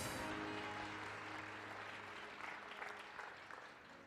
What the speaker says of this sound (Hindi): तारीफ करो ताली बजाकर जोर से परमेश्वर की।